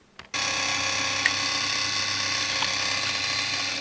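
Onkyo K611 cassette deck mechanism kicks in after a button press: a brief clunk, then a steady whirring mechanical drone with faint ticks, close and quiet, with no talking.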